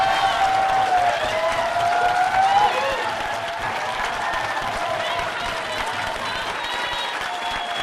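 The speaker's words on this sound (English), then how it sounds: "I thought the rousing applause comes at the end." Audience applauding at the end of a candidate's closing statement in a congressional debate, a steady wash of clapping at moderate distance that holds through the clip, with a faint tone underneath.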